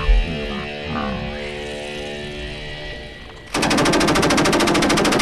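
MG42 machine gun firing: a dense, very fast continuous burst that begins suddenly after a few seconds of low rumbling ambience and holds at a steady loud level until the end.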